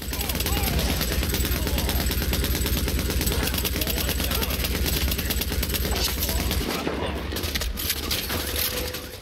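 Dense, continuous automatic gunfire from the video game The Division, a rapid rattling burst that runs the full length with a heavy low rumble, loud and close, with no voices over it.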